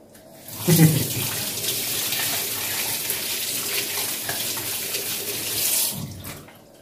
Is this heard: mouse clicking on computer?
no